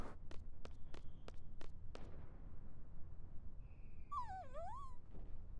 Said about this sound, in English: It's a Galbadian war dog.